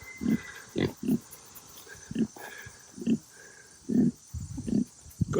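A sow gives a series of low, deep grunts, about ten short bursts at uneven intervals, close and moderately loud against a quiet outdoor background.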